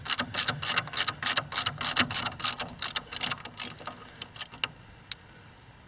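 A ratchet with a 9/16 inch socket works a cross member bolt on a CJ-5 Willys Jeep, giving close, rapid bursts of clicking strokes that thin out and slow toward the end, with no talking.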